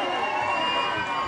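Pageant audience cheering and shouting in a continuous crowd roar, steady and fairly loud throughout with no clear individual claps.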